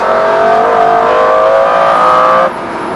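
A lively car's engine revs hard and loud through a long corner, holding a high, steady roar from close by before the note drops off sharply near the end.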